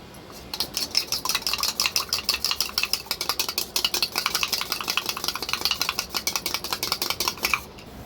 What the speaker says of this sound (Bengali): এবার ডিমটাকে আমি ফেটিয়ে নেব।